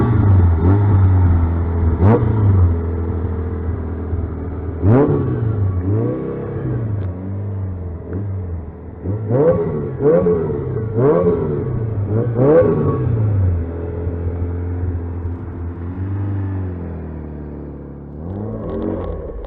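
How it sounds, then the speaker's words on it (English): A 1977 Volkswagen kit car engine idles with a low, steady burble and is blipped repeatedly, each rev rising sharply and falling back, in a series of close, loud bursts with no talking. "this is my 1977 VW kit car"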